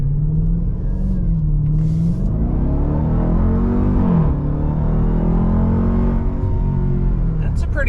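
A 710-horsepower Dodge Durango SRT Hellcat SUV cruises along a road, its engine a loud, steady low rumble with pitch rising and falling gently as it accelerates and eases off, close and continuous.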